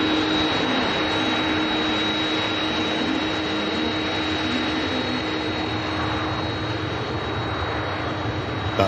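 Airbus A330 jet at Manchester Airport, a steady loud broadband roar with a sustained high whine and low engine drone, continuous and unchanging throughout.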